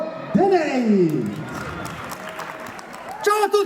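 Applause fills a cabaret and music show in Sampierdarena as an audience claps warmly under a host's voice. The clapping is dense and moderately loud, and a whistle or cheer rises at the start and again near the end.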